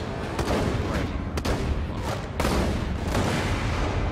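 Heavy gunfire in the video game Borderlands 2, loud dense blasts and sharp cracks through the whole stretch with a couple of distinct shots standing out, close and almost no talking.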